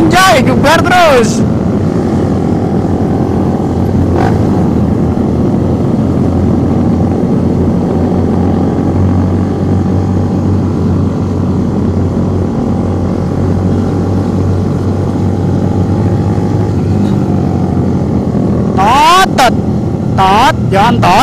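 Motorcycles, big bikes on a Sunday group ride, rev their engines loudly in a steady droning roar, with brief horn-like bursts near the start and end and voices talking over the noise.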